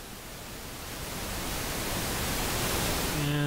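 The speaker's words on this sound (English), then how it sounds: "we'll start out here with the pink noise and I'll just turn it up." Steady hissing pink noise from an Xvive AT-1 portable audio tester swells gradually louder as the volume is turned up, with a brief tone appearing at the very end.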